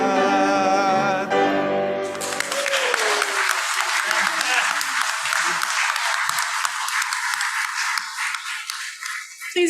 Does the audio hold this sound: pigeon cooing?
no